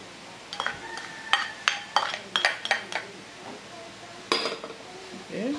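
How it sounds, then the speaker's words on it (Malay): Kerabu salad ingredients tossed together with utensils, a run of close metallic clinks and scrapes against a bowl in irregular bursts, then a pause and more clinking. "Okey, gaul-gaul sebatikan dulu"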